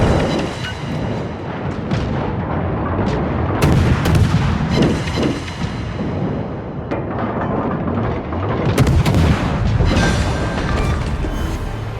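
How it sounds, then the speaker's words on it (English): Naval gunfire against an enemy warship in the World of Warships video game: dense, continuous rumbling artillery booms with sharp repeated shot cracks layered over heavy low-end roar, loud and without speech. "Concentrate fire on the enemy warship."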